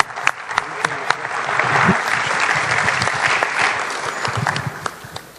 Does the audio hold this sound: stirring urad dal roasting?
no